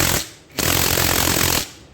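A power tool hammers at the magneto bolt of a Pulsar NS200 through a 14 mm socket bit during a one-way clutch repair. It gives a short loud rattling burst, a brief pause, then a longer sustained burst up close.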